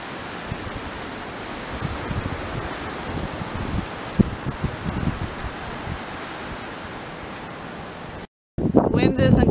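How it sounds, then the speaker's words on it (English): Strong winter wind blows outdoors as a loud, constant roaring rush with gusty rustling that fills most of the clip, then cuts off abruptly before a short burst of someone talking at the end. "Wind isn't quite as bad now as it was at 4 a.m. when it woke me up out of a dead sleep."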